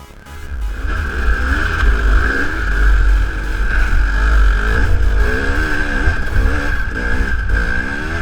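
A Kawasaki KLR motorcycle engine revs repeatedly with a raspy, rising and falling tone, loud and close, with no one speaking over it.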